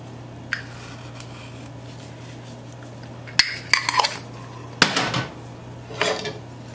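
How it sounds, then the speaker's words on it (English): Food being given a final mix in a pot while cooking a Puerto Rican Sunday dinner: a few clinking utensil scrapes and clatters against the pot, close and brief, with quiet gaps between them and no voices. "let's give this a good and final mix"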